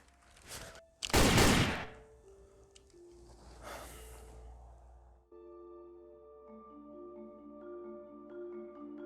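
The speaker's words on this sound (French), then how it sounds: "J'ai entendu tirer." Gunfire in a French short crime drama: a brief sharp report, then a loud booming blast and a fainter one, followed by music.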